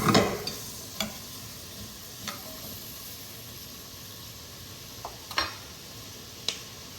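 Vegetables for split pea soup sweat in a pot with a steady soft sizzle and hiss, broken by a few sharp clicks and taps of a stirring spoon, with no talking.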